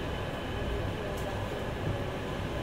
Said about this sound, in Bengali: ট্রেনটা খুরদা রোড থেকে ছাড়লো, আর যা ধাক্কা মারতে মারতে যাচ্ছে